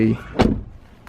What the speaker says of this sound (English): I'm going to open the door so I can step on to the running board to help me get into the truck